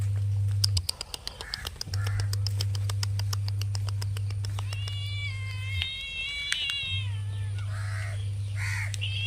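A cat gives a series of drawn-out meows, rising and wavering, close and clear over a steady low electrical hum, with rapid clicking taps early on.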